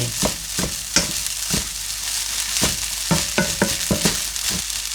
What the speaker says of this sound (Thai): เราก็จะใส่กุนเชียงที่เราทำการ ทอดไปเลยค่ะ แล้วก็ผัดให้เข้ากันนะจ๊ะ ผัดให้เข้ากันเลย